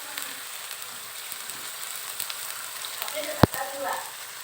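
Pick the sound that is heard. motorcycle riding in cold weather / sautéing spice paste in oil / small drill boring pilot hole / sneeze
sautéing spice paste in oil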